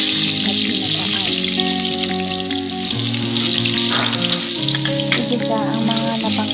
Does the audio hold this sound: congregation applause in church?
no